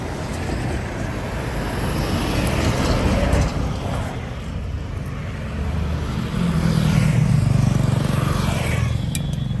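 Roadside traffic rumbles past as cars, motorcycles and heavier vehicles pass close by, a loud continuous roar with swelling engine noise and a wind-buffeted microphone.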